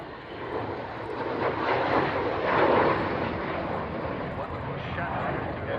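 A fixed-wing stealth aircraft with a triangular shape passes over the airfield at the Fairford airshow. It gives a steady, broad engine roar that swells slightly midway and then holds at a sustained, moderate level.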